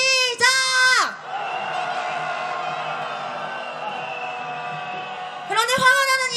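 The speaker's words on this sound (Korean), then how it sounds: "분노의 마음을 담아 함성 질러보겠습니다" A large candlelight protest crowd roars in unison at a rally about the Statue of Peace, with loud amplified calls opening and closing a sustained, distant-sounding mass shout.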